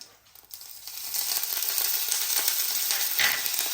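Cumin, fennel seeds and curry leaves hit hot oil for a tempering, bursting into a loud, close, steady sizzle that swells quickly and holds with crackling pops.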